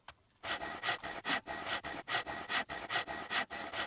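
Wood is sawn in the video game SCUM: a rapid, even rhythm of about a dozen rasping back-and-forth strokes, close and clear, with no talk.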